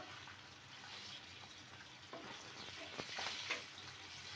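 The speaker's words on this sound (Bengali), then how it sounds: "মাছটাও কিন্তু সুন্দর করে ভাজা হয়ে গেছে" Tatkini fish fries in a pan in a home kitchen, giving a steady, moderate sizzle with occasional scraping and clinking as it is turned, no voices.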